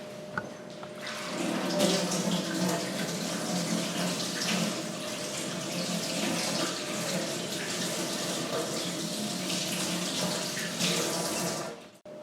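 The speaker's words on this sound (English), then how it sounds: "And we're going to wash it in cold water in the sink just to rinse all that salt off." Cold tap water runs steadily into a kitchen sink while salt is rinsed off food being cured in brine, a continuous close splashing rush lasting about eleven seconds with no talking.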